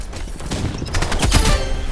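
Rapid bursts of revolver gunshots from a video game, several loud close shots clustering into a dense volley toward the end, with no voices over them.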